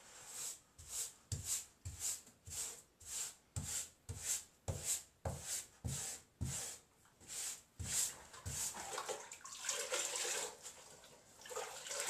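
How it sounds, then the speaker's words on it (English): A sponge lightly scrubs bathroom tile in steady back-and-forth strokes, about a dozen rhythmic swipes close by, easing into a looser wet rubbing toward the end. "we're just going to scrub, lightly scrub"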